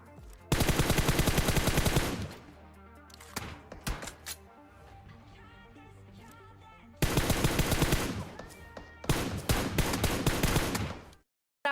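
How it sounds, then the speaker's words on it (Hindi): Rapid bursts of gunfire from PUBG Mobile, loud and close, two long dense strings of shots separated by quieter scattered single taps and a lull. "फिर ऊपर जाके कंटेनर्स पे इन पे टैप टैप फायर किया"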